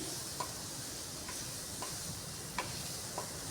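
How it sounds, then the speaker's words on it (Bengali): Spices with a little red chilli powder being sautéed for biryani, a faint steady sizzle with soft spoon scrapes and light ticks against the pan at irregular intervals, no voices. "খুব ভালো করে এখন কষিয়ে নিচ্ছি।"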